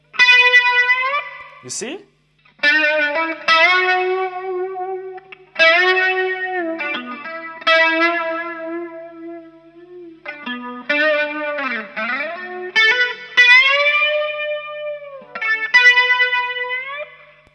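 Distorted electric guitar plays picked notes bent up in pitch and held with vibrato, ringing with effects, from a live guitar solo; someone briefly speaks partway through.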